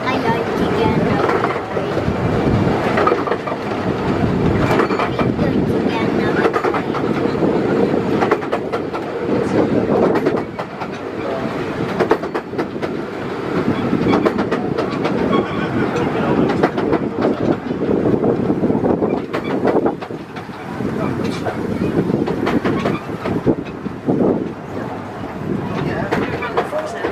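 A light railway train on the Evesham Vale line rumbles steadily along its track with a continuous, loud roll, wind buffeting the microphone and people chatting over it.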